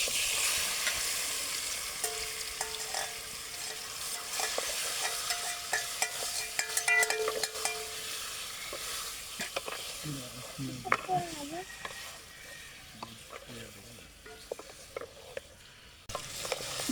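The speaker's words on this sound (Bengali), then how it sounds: "তেলটা গরম হয়ে গেছে, ম্যারিনেট করে রাখা চিকেনগুলো আমি এখন দিয়ে দেব।" Marinated chicken frying in hot oil in a kadai, a broad steady sizzle with intermittent stirring clatter, close and fairly loud, with a brief voice partway through.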